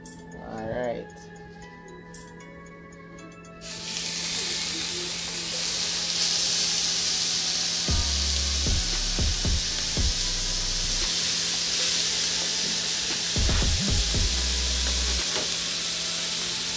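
Salmon on a hot grill pan, a loud, steady broad sizzle and hiss that begins abruptly and carries on throughout, with brief low bumps and handling noises partway through.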